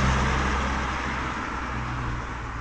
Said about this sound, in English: Here in Illetas, it does get very noisy when the cars come by.